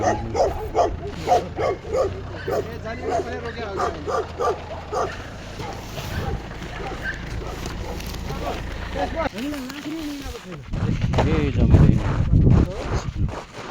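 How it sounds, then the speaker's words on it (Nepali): Security dogs at a company-run cow farm bark and yip among people talking nearby, with the barking growing louder and busier toward the end. "कुकुरहरू सिक्युरिटी हो यहाँको"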